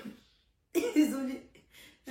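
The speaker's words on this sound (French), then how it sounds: "je ne guéris pas de ma toux" A woman with a lingering cough lets out one harsh, close cough during a late-night get-ready-with-me makeup chat, followed by a softer throat sound in a quiet room.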